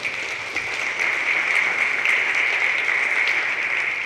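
An audience applauds steadily after a presentation at a conference on AI, with the sound holding even and sustained throughout and no voice above it.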